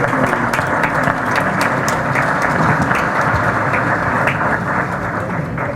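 Steady, dense applause fills a conference hall as the audience welcomes engineers seated for a round-table session, loud and continuous with little talk.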